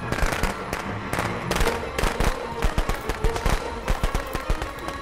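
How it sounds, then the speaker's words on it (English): A firecracker in a video game goes off as a loud, rapid string of sharp cracking pops. The bangs keep going for the whole stretch with slightly irregular spacing, like a chain of firecrackers. "And the firecracker went down the hill."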